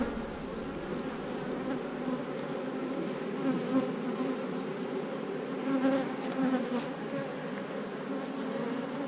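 Honey bees swarm over an open hive frame of brood, honey and pollen, giving a dense, steady close buzzing drone with no voices heard.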